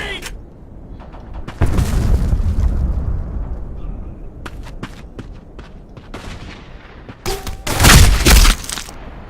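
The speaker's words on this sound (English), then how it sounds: "Throwing grenade!" Gunfire and a grenade blast in the first-person shooter Black Squad, with scattered sharp shots and booms, then a loud burst of explosions near the end. A player talks over the game sounds.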